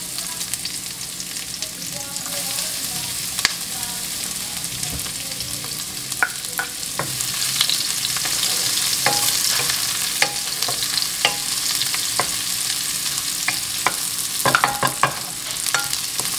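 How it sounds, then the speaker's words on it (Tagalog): Tomato, onion and garlic sautéing in oil in a pan for Bisaya pork humba, a steady sizzle and fry with scattered sharp crackles and spatula scrapes, no talking. "So magsaute sa taog, bombay and ahos."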